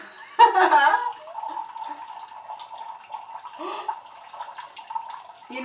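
Wine pours into a glass with a burst of liquid splashing early on, then a thin steady trickle and faint drips continue under quiet background sounds.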